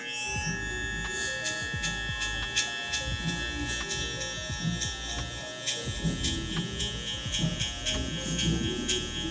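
Electric hair clippers fitted with a 1.5 guard cutting spiky hair, a steady close buzzing hum running throughout with small pulsing variations as the blade moves through the hair, no talking.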